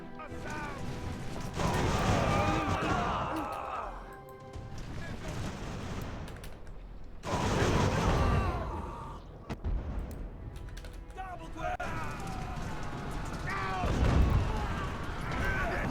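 Musket volleys crackle in Ultimate General: American Revolution, a British invasion battle at Monroe, with bursts of massed fire rising and falling over roughly fifteen seconds while a voice talks over the action.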